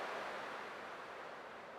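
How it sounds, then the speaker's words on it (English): Ocean waves and surf in Honkai: Star Rail wash steadily across the whole stretch, a dense, even roar like breakers close by, with no voices over it. "I can still clearly hear the sound of the waves."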